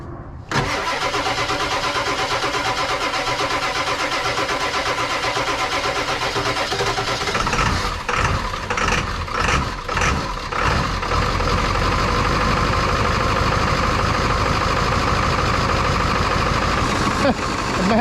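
A 7.3 Powerstroke diesel in a Ford Super Duty cranks for several seconds, then catches and settles into a loud, steady rattling idle, with brief bursts of revving near the start.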